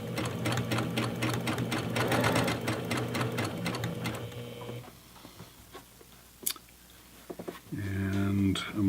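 Sewing machine stitching an eased fabric seam, a fast steady mechanical whir running for several seconds before it stops, followed by quieter handling clicks and a brief second burst of stitching near the end.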